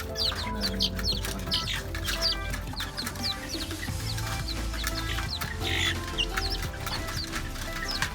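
Chicks kept in a pen squeal and cheep with hunger in dense, overlapping high peeps, close and steady throughout, with an adult chicken clucking and low farmyard rumble underneath.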